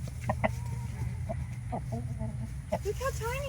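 Chickens and a big rooster cluck in a farmyard coop, a white hen among them and a tiny rooster with a runny nose nearby; short, scattered clucks and calls rise close over a steady low background hum.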